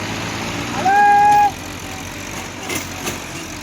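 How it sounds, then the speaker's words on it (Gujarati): A tractor stuck deep in mud tries to pull free: a low engine rumble runs steadily throughout, with a brief high tonal squeal near the start and some faint knocks toward the end. "ટ્રેક્ટર ખૂતી ગયું કેમ કે કાલ ખૂત્યું હતું એનાથી થોડુંક અંદર ખૂત્યું માટે હજી એક અમે ટ્રાય કરીએ છીએ"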